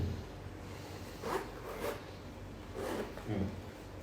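A zipper on the middle compartment of a dark navy vintage Prada bag is pulled in several quick, rasping strokes at close range, over a steady background hiss.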